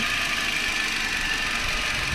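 A Chevrolet Beat LS with a 1200cc engine idles in a steady, even hum, quiet and unbroken, heard up close with no talking.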